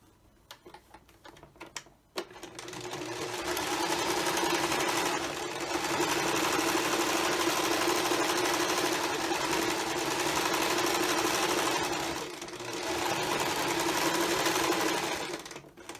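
A sewing machine stitches a fabric heating bag filled with rice, running in a loud continuous whirring, rapid-ticking stretch that pauses briefly partway through and then resumes.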